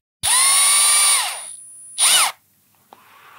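A cordless screwdriver whirs loudly up to speed for about a second, winds down, then gives a short second burst, close and alone with no talk.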